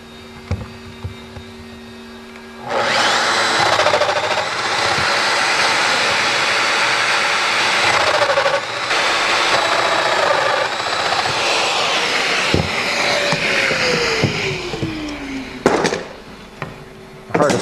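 A Festool Domino XL joiner runs continuously as it cuts mortises, a loud steady whirring motor roar with slight shifts in pitch, winding down near the end, no talk.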